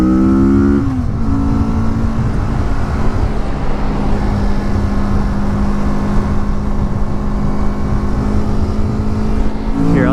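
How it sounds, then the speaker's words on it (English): A 2016 Kawasaki Vulcan S motorcycle accelerating on a highway: a steady engine drone rising in pitch with gear changes near the start and end, under constant loud wind roar. "this bike doesn't have any problem getting up to speed on the highway"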